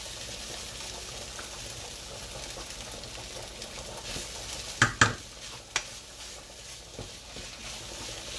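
Meat sauce for spaghetti being stirred in a pan, with a steady soft scraping and sizzle throughout and a few sharp utensil clinks against the pan near the middle.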